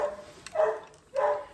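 Two short bursts from a puppy, each a brief bark or yip with a slight whine, separated by a pause. The sound is close and moderately loud, with no talking over it.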